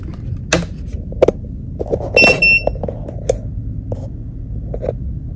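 A short electronic beeping chirp from a Nelko Bluetooth label printer powering up, among faint handling clicks and taps in a quiet room.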